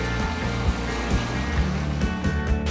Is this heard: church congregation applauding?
no